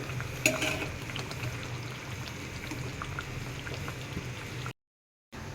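Soft continuous sizzle of pangas fish frying in a pan, close and steady with a brief clatter near the start and a short gap of silence near the end.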